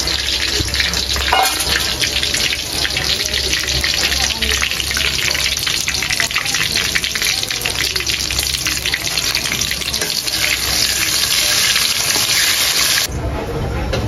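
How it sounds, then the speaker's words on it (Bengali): Minced garlic, bay leaves and dried red chilies fry in hot white oil in a wok, giving a loud, continuous close sizzle and crackle that runs unbroken before cutting off near the end. "তেল গরম হয়ে গেছে, তেলে দিয়েছি রসুন কুচি, তেজপাতা"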